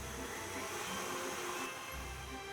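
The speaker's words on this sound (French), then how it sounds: "je vais faire tourner mon batteur à vitesse moyenne pendant au moins 5" Electric stand mixer with its bowl locked in, beating eggs and sugar at medium speed for a cake, giving a steady, fairly quiet motor whir with a slight shift in pitch near the end and no talk.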